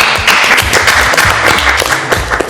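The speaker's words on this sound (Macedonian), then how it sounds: "Аплауз." A cooking reality-show studio audience applauds, loud close clapping packed into a dense burst that holds steady for a couple of seconds.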